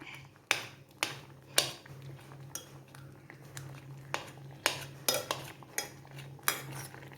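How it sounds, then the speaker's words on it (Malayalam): Cowpeas go into a pot of cooked yam and pumpkin for a Kerala erissery. A dozen or so sharp metallic clinks and taps of spoon against pot come at an irregular rhythm over a faint low hum. "ഇനി നമുക്കിതിനകത്തേക്ക് പയർ ചേർക്കാം"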